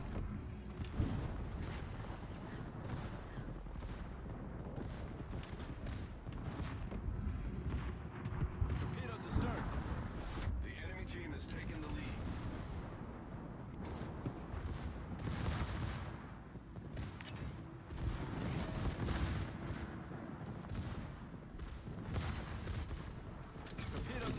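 Warship main and secondary guns fire in the World of Warships video game, with dense, rumbling booms and blasts layered over a constant roar of battle, and a voice talks faintly over it.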